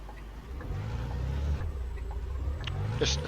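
A heavy truck engine in Euro Truck Simulator 2 drones low and steady at cruising speed, a continuous deep rumble with faint road noise and no talk over it.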